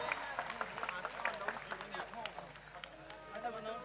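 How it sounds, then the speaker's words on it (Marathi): Audience applause at the unveiling of an equestrian statue of Chhatrapati Shivaji Maharaj in Kalmeshwar, Nagpur, a steady wash of many hands clapping that fills the whole stretch with crowd noise. "यावेळेला आपल्या सगळ्यांच्या टाळ्यांचा गडगडाट नक्कीच होत राहायला हवा"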